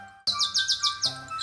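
Birds sing in a yard: after a brief silence, a string of bright, repeated chirps and tweets rings out close and clear, about five quick phrases in a row over a faint background hum.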